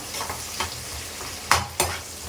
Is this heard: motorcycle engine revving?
no